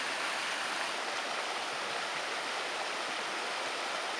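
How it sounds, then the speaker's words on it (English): A stream gurgles over rocks in small waterfalls at an off-grid campsite, giving a steady, close rush of water that holds even and unbroken throughout, with no voices. "rocks make the little mini waterfalls and the gurgling sounds."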